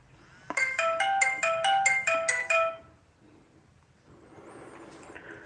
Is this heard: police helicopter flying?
no